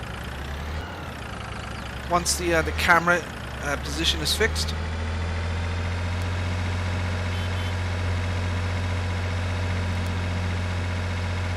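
A 75 horsepower tractor with manual transmission idles in Farming Simulator 22, a steady low engine drone running throughout, while someone talks over the first few seconds before the engine continues alone.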